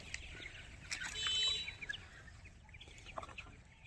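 Tiger-breed chickens kept free-range on a farm cluck and call in short, irregular bursts, fairly close, with a louder cluster of calls partway through and no talking.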